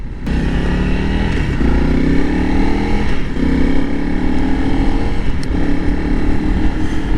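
A Honda CRF300L motorcycle engine drones steadily and close on asphalt at up to 50, on new Tusk DSport tires, its pitch rising and falling slightly as it accelerates and cruises, with constant road and wind rush.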